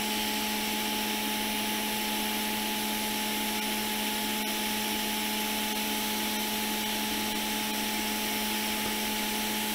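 Hot air blowing a capacitor off a 2017 13-inch MacBook Air logic board: a steady, loud, broadband rushing hiss with constant tonal hum, unbroken and close throughout.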